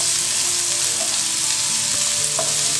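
Finely chopped vegetables sauté in a pan for pizza pockets, giving a steady, close sizzle and crackle throughout with a faint stir or two and no talking.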